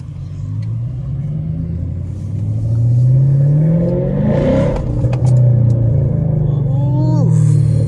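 Straight-piped Camaro SS V8 at night, a loud, close, continuous exhaust drone that climbs and falls through repeated revs while driving, with a sharp surge in the middle and steady rumble throughout.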